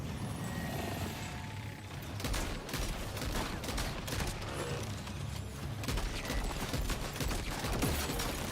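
Rapid bursts of gunfire in Death Stranding 2 crackle through a dense, busy game mix, with repeated sharp shots and mechanical clatter running continuously at moderate volume.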